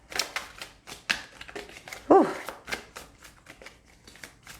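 Tarot cards are shuffled by hand in a series of soft, irregular riffling and tapping bursts, close and fairly quiet, with a brief exhaled vocal sound in the middle.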